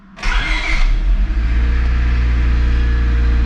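A Honda Civic LX's D16Y7 engine cranks and catches with a quick revving surge in a garage, then settles into a loud, steady idle that drones on without a break.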